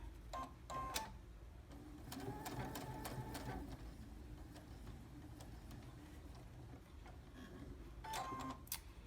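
A sewing machine top stitching a tailored sleeve placket runs in short bursts with clicking pauses between, fairly close and steady, with a final burst near the end.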